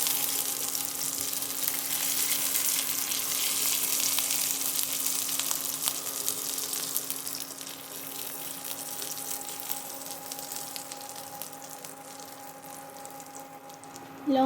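Chili and garlic frying in oil in a pan, a bright steady sizzle with light crackling, close up, easing slightly in the second half, with a faint steady hum underneath and no speech.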